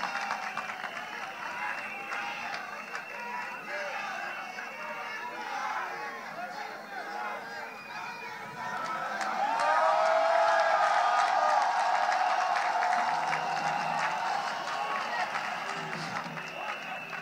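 A crowd at a party event applauds, and the clapping swells midway into a louder, fuller wave, with chatter and voices throughout.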